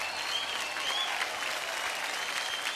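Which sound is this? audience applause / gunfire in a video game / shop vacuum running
audience applause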